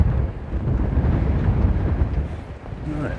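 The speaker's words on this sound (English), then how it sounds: "Oh, quite windy." Wind buffeting a microphone at the seaside on the Isle of Wight near Shanklin, a loud, continuous low rumble and roar that gusts unevenly throughout.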